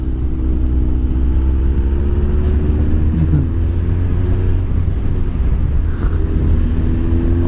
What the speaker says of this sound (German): Oh, genau, Auto.